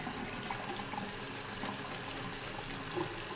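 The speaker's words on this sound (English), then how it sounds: "turning on warm water, very simple." A sink tap runs warm water for washing duduk reeds with soap and a sponge, a steady close splashing flow that continues evenly throughout.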